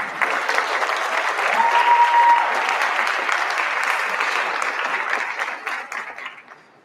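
A school auditorium audience applauds at a high school senior awards ceremony, steady dense clapping from many hands that holds for several seconds, then thins out and fades at the end.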